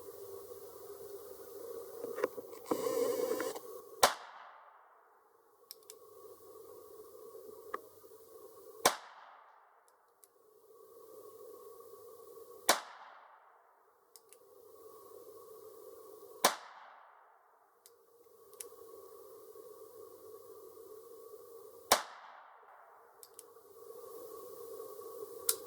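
A North American Arms .22LR mini pistol fires five sharp, loud cracks, spaced about four seconds apart, each followed by a short ringing decay, with no talking.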